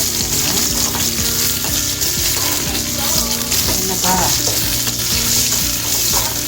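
Onion, dried red chillies, garlic and curry leaves fry in hot oil for a brinjal and lentil kootu, a loud, dense, unbroken sizzle with crackling pops and the scrape of stirring throughout.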